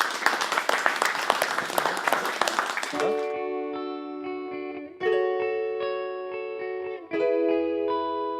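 Thick, dense applause from an audience for young performers fills the first three seconds, then cuts off as sustained, tonal electronic music with a chorus-like effect begins and swells in separate phrases.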